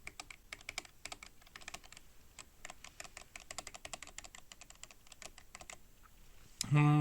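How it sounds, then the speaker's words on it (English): Rapid keystrokes on a DrunkDeer A75 keyboard with PBT keycaps, a thin, clacky stabilizer rattle of steel bar on plastic housing on each press, close-up and fairly quiet, ending in a brief louder thump. "This is the sound of the steel bar of the stabilizer making contact with the hard plastic of the stabilizer housing"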